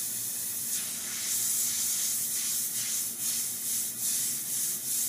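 An airbrush spraying paint in steady dagger strokes: a continuous close, airy hiss that swells and dips gently in regular pulses, with no voices.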